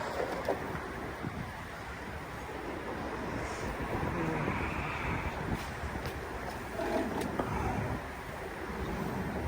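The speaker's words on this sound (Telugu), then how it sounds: "గాలి ఎక్కువ ఉంది" Strong winter wind blusters outdoors on a South Korean street, a constant loud rushing roar that buffets the microphone and rises and falls without a break.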